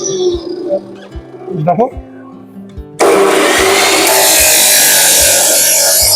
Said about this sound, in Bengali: এটা খুবই পাওয়ারফুল মেশিন, একসাথে আমি এখন 5-6টা পাইপ কাটছি।